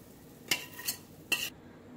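Meat for haleem being scraped and dropped into a large pot, three quick metallic scrapes and clinks of a utensil against cookware over a short spell, close and fairly loud, otherwise quiet.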